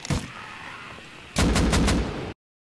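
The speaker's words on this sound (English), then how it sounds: "I put so many bullets into him." Gunfire in the Rust survival game: a short early shot, then a rapid burst of four or five loud, close shots in quick succession, with no talking.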